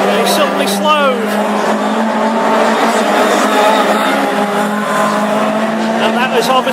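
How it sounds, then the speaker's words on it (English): Hot rod race cars racing on a track at Cowdenbeath, one car slowing with an overheating engine; loud continuous engine drone with a steady low hum, tire noise and a commentator talking throughout. "that is obviously the overheating engine"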